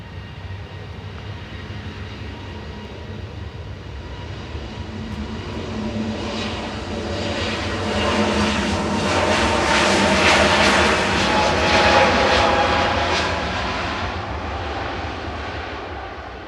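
A Vueling airliner departs Manchester Airport for Barcelona, its jet engines a broad distant roar that swells steadily toward a peak and then begins to ease, heard alone without talk.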